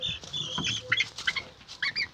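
Chickens on a farm give soft, high clucks and chirps in short irregular bursts at close range, over a low background hum.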